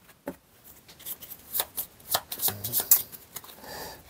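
Playing cards being shuffled during a card game, a run of crisp riffling flicks and soft slaps building over a few seconds, close and fairly quiet, with no talking.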